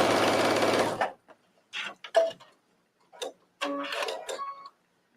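A sewing machine top stitches a trench coat, starting with a steady run of rapid stitching that stops abruptly, followed by several short, separate bursts of stitching with quiet gaps between them.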